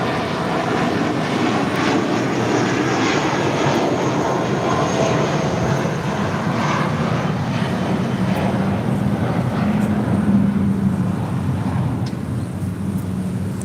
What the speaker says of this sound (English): This is JetBlue 806 taking off to Seattle on an A320 in the New York City Fire Department livery